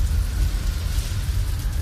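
Steady rain and rumbling thunder of a night storm, a dense, continuous wash with heavy low-end roar and no voices.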